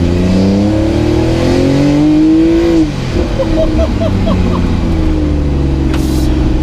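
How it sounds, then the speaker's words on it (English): A Fenyr Supersport hypercar with a dual-clutch gearbox revs loudly as the engine note climbs and then drops away after a downshift, followed by crackling pops from the exhaust and a steady running drone. "Let me just drop it down a couple of cogs. Let's do that one more time."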